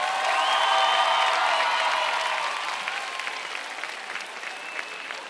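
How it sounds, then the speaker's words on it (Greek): At a 2019 live concert at the Katrakeio theatre, a crowd applauds loudly and continuously. Sustained tonal cheering or whistles ride over the clapping early on, and the applause gradually eases to a softer patter. "Δυνατό χειροκρότημα να ζεσταθεί."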